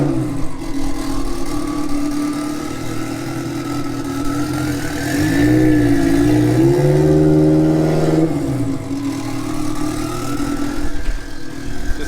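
A loud Mk2 car engine with a 1.8T turbo four-cylinder rumbles at a steady idle, then revs up briefly in the middle before settling back down, close by in a garage with no talking.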